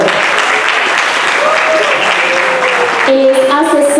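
Loud, dense audience applause at a business panel event welcomes a financial and administrative leader, a continuous roar of clapping with voices underneath that gives way to a tonal sound near the end.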